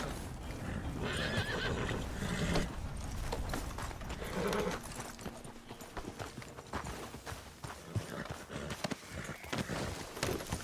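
A horse in the video game Red Dead Redemption 2 whinnies loudly and repeatedly while its hooves clip-clop, close by and continuous over a busy game soundscape.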